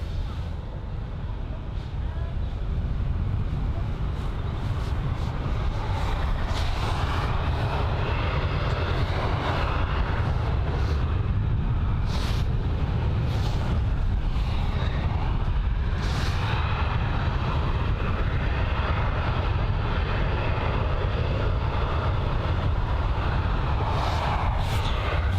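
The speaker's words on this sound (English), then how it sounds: "There is the KLM E190 from Amsterdam." A KLM Embraer E190 airliner arriving at Bristol Airport from Amsterdam. Its jet engines give a steady, loud roar that holds for about twenty-five seconds, with a voice talking faintly at times underneath.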